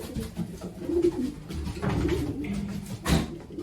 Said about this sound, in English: They're going to fly with the old pigeons in this loft too.